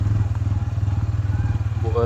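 A new Bajaj Pulsar N160 motorcycle engine hums steadily and close, with a pulsing low rumble and wind buffeting throughout; a voice talks over it.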